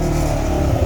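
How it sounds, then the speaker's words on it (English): A Polaris RZR XP 4 1000 side-by-side with modified exhaust rumbles loudly and continuously up close, a deep throaty drone with slight revving surges. "let's hear the exhaust just a little bit"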